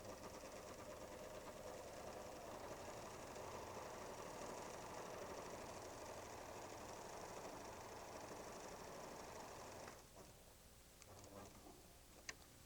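A PFAFF creative 1475 sewing machine stitches a couching stitch with cords fed through the foot, a steady fast mechanical whir running for about ten seconds before stopping, leaving a few faint clicks and handling noises.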